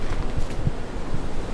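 Strong outdoor wind buffets the microphone in Montreal in winter, a steady low rumbling roar with gusty surges throughout and no voices.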